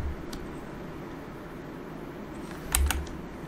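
Keys pressed on a computer keyboard while playing Digital Combat Simulator, a couple of quick clicks near the end standing out over a steady fan-like hum.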